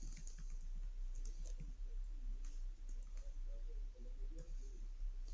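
Code being typed on a computer keyboard while building a React star rating app: soft, irregular key clicks in short bursts, quiet and close, over a steady low hum.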